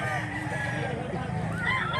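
A 14-month-old rooster weighing around 2 kilos, one of several birds offered for sale in Mantalungon, Cebu, crows in a steady, fairly close call lasting about two seconds.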